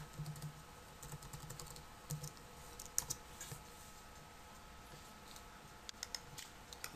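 A search for classtools is typed on a computer keyboard, with quiet, irregular key clicks in small bursts and a few sharper taps against a faint steady background hum.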